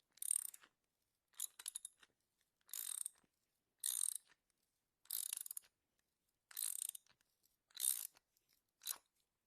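Threaded insert being tightened into wood, eight evenly spaced bursts of grinding, ratcheting creaks as it is driven in turn by turn, close and isolated against silence.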